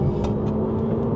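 An Alpine A290 electric hatchback pulling away hard in sport mode, a steady close whir and road rumble with faint rising tonal whines, no voices.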